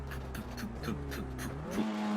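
Touring car engines in an iRacing race at the Nurburgring roar and whine through rising and falling gear shifts, a steady loud drone with repeated pitch climbs, no talking.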